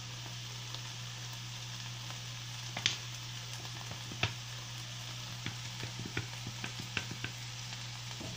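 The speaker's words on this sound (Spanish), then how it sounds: "Le voy a agregar ajo molido." Arrachera stew frying in a pan as ground garlic goes in, with a steady sizzle, a low hum beneath it and scattered clicks and stirring taps.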